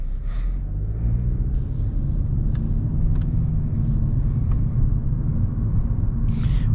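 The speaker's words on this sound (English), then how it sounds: "We're gonna hop on the highway and we'll see how this Elantra will do." A 2024 Hyundai Elantra in sport mode heading onto the highway, its steady engine and road rumble droning continuously from inside the cabin, with a few faint higher rattles over the low hum.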